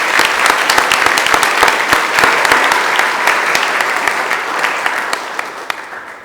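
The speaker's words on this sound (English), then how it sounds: "Let's just give one more round of applause for the whole event" A conference audience gives a full round of applause: dense, loud clapping from many hands near the listener, holding steady for several seconds before easing slightly toward the end.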